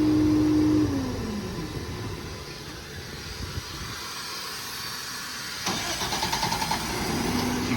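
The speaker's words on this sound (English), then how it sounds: "You can turn the truck off and on from the remote." Cummins diesel engine of a 2019 International MV607 service truck shutting down by remote, then cranking and starting again with a rising clatter and a settling idle, alongside a steady hiss.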